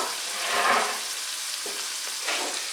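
Cabbage hits a hot skillet with a steady broadband sizzle and frying hiss, rising to a louder swell then settling, with faint stirring clatter near the end; no talking.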